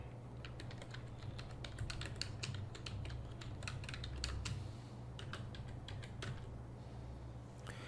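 Steady, rapid keystrokes on a computer keyboard while text is typed into a Photoshop T-shirt design, close and clear over a low background hum, with no talking.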